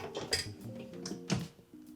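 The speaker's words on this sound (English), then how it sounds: "I'm gonna gently slide my pan into the air fryer" A metal pan slides into a Philips air fryer with a few light clanks and scrapes, including a sharper knock near the end, in an otherwise quiet kitchen.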